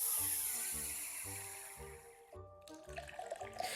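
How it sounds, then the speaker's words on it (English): Vanilla Pepsi poured into a glass, giving a steady gurgling liquid rush with a fizzy hiss on top, then a brief pause and a spatter of fizzing and splashing, close and moderately loud. "See, I love the sound of pour."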